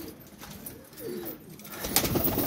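Pigeons cooing in a loft room after cleaning, soft repeated low coos close by with some rustling and a louder burst of activity near the end.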